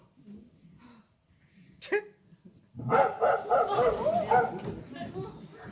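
A dog barks and yips in quick bursts close by, mixed with whimpering, after a quieter stretch with a brief sharp sound.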